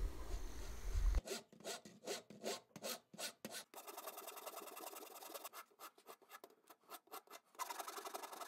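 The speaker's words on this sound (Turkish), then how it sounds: "Şimdi törpüyle ve zımparayla arabamızı düzeltiyoruz." A rasp and sandpaper shape a small carved model of a Ford Mustang car, first in rhythmic rough strokes, then a longer stretch of steady scraping and rubbing close up, with no voices.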